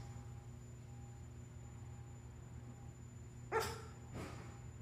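A parrot imitates a barking dog, giving two sharp, short barks close together against a steady background hum.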